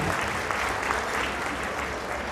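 A hall full of people claps loudly and steadily for a children's performance at a school annual function, with a low background hum beneath the dense applause.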